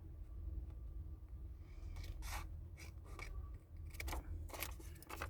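Scissors cutting along the edge of paper craft material, a few quiet close snips and rasping strokes in the second half over a faint low hum, with no talking.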